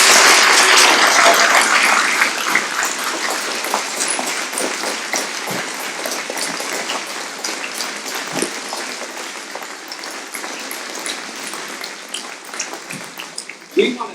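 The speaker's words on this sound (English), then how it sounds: "give these two gentlemen, Cody and John, another round of applause" An audience at a drug task force community awareness night in Bluffton, Indiana applauds two speakers, the clapping loud at first and then thinning and fading, with scattered claps to the end.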